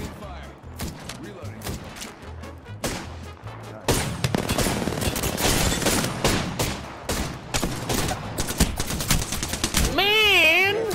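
Gunfire in the shooter game Apex Legends, rapid automatic bursts and single shots crackling through most of the stretch, loud and close, with an electronic effect near the end and players talking over it.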